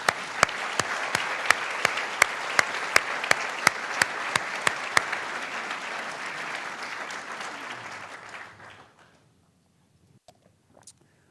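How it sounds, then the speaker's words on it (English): An audience at a district attorney's swearing-in ceremony claps steadily, with a few sharp close claps standing out, before the applause thins and fades to near silence. "just a round of applause for all of you."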